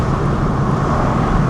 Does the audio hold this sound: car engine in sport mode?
yes